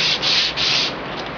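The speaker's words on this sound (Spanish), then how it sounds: "hay que seguir lijando hasta que quede todo curvo" Sandpaper rubs back and forth along a wooden guitar fretboard, shaping it to a curve, in close, steady strokes with brief pauses between passes and no talking.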